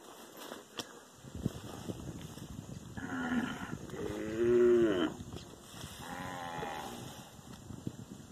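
A Nelore cow being lassoed in a pasture moos and lows several times at close range, with long drawn-out calls over quiet background rustling.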